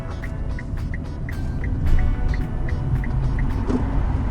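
A taxi drives between electric charging stations in Zhytomyr, heard as a steady low road rumble inside the cabin with a faint, evenly spaced chime repeating, close and continuous, with no talk.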